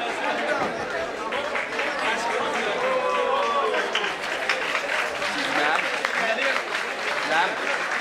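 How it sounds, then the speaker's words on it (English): A school audience at Delhi Public School Ruby Park, Kolkata applauds the students, a continuous wash of clapping mixed with crowd chatter and shouts throughout. "a huge round of applause for all the students"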